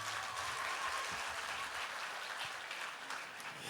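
An awards ceremony audience applauding steadily, a dense wash of clapping with a few whistles, holding fairly even and then thinning slightly toward the end.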